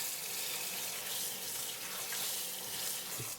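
Steady running water from a kitchen tap rinses rehydrated wood ear mushrooms, a constant close hiss and splash with no talk over it.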